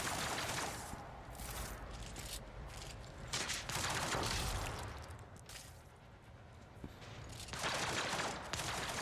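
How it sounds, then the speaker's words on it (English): Gunfire in the Warhammer 40k Rogue Trader video game, bursts of rapid shots and blasts in dense volleys that swell and fade over a busy battle soundscape. "Somebody tried to shoot me."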